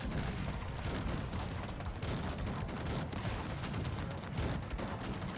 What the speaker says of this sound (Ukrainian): Просто дуже настрілюють гармати.